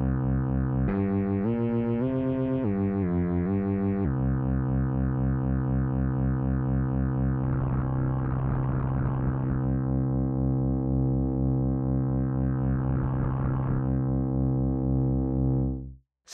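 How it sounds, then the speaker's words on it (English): A sustained buzzy synthesizer tone from a chaos generator hard-synced to a sine wave in Newfangled Audio Pendulate, with shifting harmonics, stepping through pitch changes early on, then holding a drone with two bursts of gritty, chaotic modulation. "This is a little bit like a hard sync in analog subtractive synthesizers"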